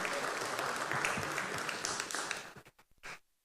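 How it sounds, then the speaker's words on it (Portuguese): An audience applauds at a conference panel on economic modelling, a dense wash of clapping that thins out and breaks into a few last scattered claps before stopping. "Peço palmas para o José Borges"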